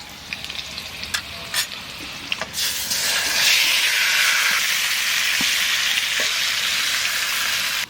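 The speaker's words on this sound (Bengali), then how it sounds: "আর কটা চেরা কাঁচা লঙ্কা এবার মাছ দিয়ে দেবো" Pieces of hilsa fish for mustard hilsa drop into hot oil with nigella seeds and slit green chillies, setting off a loud, continuous sizzle and frying hiss after a few faint clinks and stirring noises.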